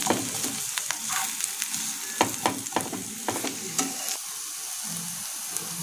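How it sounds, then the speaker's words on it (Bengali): Chopped onion and chilli stirred and fried in hot oil, a steady close sizzle broken by repeated scraping strokes of a spoon through the pan, with no one talking. "পেঁয়াজ কুচি, লঙ্কা কুচি একসাথে দিয়ে আমরা সামান্য একটু নাড়াচাড়া করে নেব"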